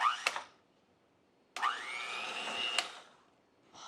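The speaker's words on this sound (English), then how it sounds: "So I'm gonna like mix it up a little bit, like softly, just so the sugar doesn't go flying everywhere" An electric mixer whips sugar for a tres leches cake in quiet, short bursts: a brief whir, a pause, then a longer run whose pitch climbs as the motor speeds up.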